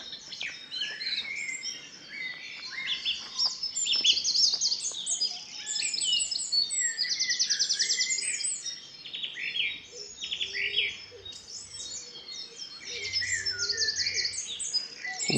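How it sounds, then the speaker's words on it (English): A song thrush sings from a perch overhead. It delivers repeated, varied phrases at a lively pace, bright and fairly near, over quieter birdsong and a faint outdoor hush. "There's a song thrush up here."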